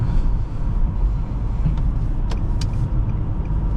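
A 2011 Nissan Maxima SV heard from inside the cabin during a drive, its engine droning loud and steady, with brief faint clicks and ticks rising over the constant rumble.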